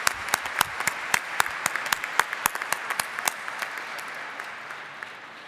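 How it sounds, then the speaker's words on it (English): Audience applause at a college commencement ceremony, a few seconds of scattered claps that fade out gradually as the clapping thins. "Give him a round of applause."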